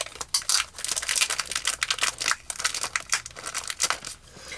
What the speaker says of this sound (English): I haven't even opened the Rinea foil, so let's do that.